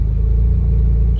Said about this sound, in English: It's actually trying to idle.